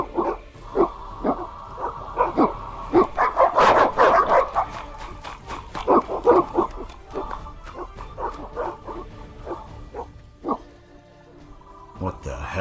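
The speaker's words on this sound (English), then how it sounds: "Це дуже злі собачки." Dogs barking and yipping repeatedly in The Witcher video game, loud clustered barks with some whimpering, mixed with talk throughout.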